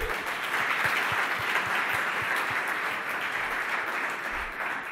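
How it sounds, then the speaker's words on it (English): Conference attendees in a hall applaud at a business session of an Israel congress. The clapping is even and sustained, moderately distant and fairly soft, with no talk over it. "how about giving Melody a round of applause for the great job?"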